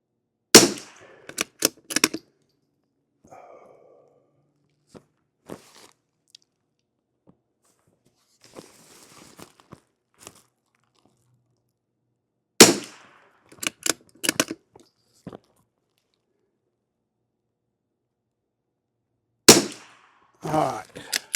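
A rifle fires CCI standard velocity ammunition lubed with beef tallow and beeswax, in cold weather: sharp, loud cracks in spaced clusters separated by quiet gaps, with faint brief talk in between.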